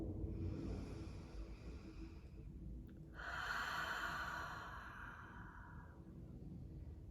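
Deep, slow breaths during a grounding meditation, heard close and soft: one long breath drawn in and released, then a second fuller inhale that sounds louder, with a faint low hum underneath and no talking.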